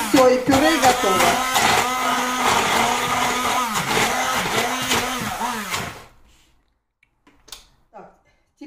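A kitchen blender whirs loudly for about six seconds with pulsing pitch changes as it purees plums, then stops, leaving a quiet room with faint clicks.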